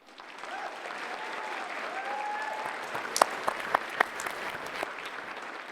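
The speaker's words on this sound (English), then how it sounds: "So let's give a round of applause." Graduating class at a college commencement ceremony receives sustained applause from a large crowd, a dense steady wash of clapping with a few sharper claps and faint cheering mixed in.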